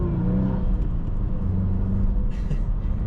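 A 2022 Subaru WRX accelerating gently, a steady low engine drone and road rumble heard from inside the car, loud and continuous without a sharp rev.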